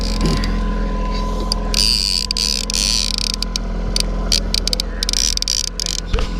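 A fishing reel's clicker on a salmon boat on Lake Michigan ratchets in irregular bursts of rapid clicks over a steady low motor drone, fairly close and continuous.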